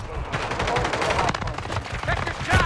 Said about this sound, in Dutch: Dus ik moet 9 kogels schieten.